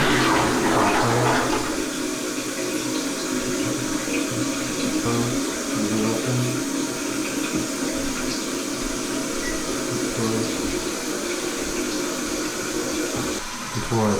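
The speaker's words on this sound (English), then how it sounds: "Before I flush" A TOTO Drake toilet fitted with an S7A washlet flushes with a loud, steady rush of water that runs nearly the whole time, its sound changing slightly near the end as the bowl refills.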